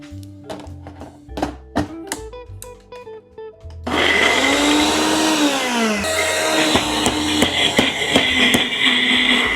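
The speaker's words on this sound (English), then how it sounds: "then blend the rest of the apple" Countertop blender pureeing apple pieces for homemade dog treats: after a few knocks and clatters, a loud steady motor whir starts and runs without a break, its pitch dipping and rising as the blades catch the fruit.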